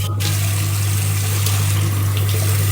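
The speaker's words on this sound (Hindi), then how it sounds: "पानी गिरा रही हूँ" Water is poured in a steady, loud, continuous rush close by, with no gaps and no talking over it.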